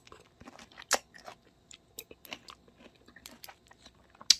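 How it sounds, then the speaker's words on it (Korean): Close-up chewing of firm peach pieces in homemade canned peach nectar with milk, soft irregular crunches and wet bites with pauses between, no talk. "과육도 그대로 씹히고"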